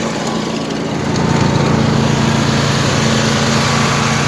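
A Craftsman gas-engine pressure washer runs steadily at close range, its buzzing small-engine drone growing slightly louder after the first second and then holding even, with no backfires and no voices.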